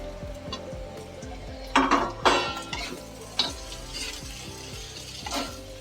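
A spoon stirs dry-roasted bitter gourd in a pan with no oil, scraping and clinking against the metal in a steady rhythm, close and clear with a couple of louder knocks.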